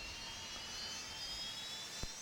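Jet engine spooling up and stabilizing after start in a home-cockpit flight simulator: a steady, even whine with broad rushing noise throughout, holding level with a brief click near the end.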